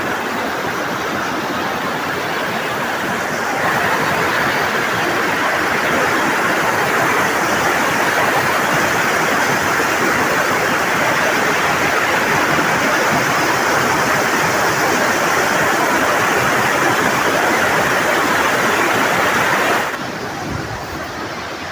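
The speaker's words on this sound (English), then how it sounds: "yep, there's the weir." Water rushes over a weir in Burrs Country Park, Bury, making a loud, steady broadband roar that continues unbroken for about twenty seconds before easing slightly at the end, with no talk.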